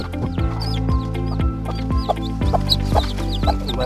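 A native mother hen clucks steadily and close up, with soft repeated clucks and a few higher chick-like peeps over a constant low droning background.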